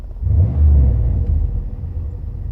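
A car idles with its exhaust resonator removed, giving a deep, steady low rumble close up, slightly louder and throatier than stock, with no voices.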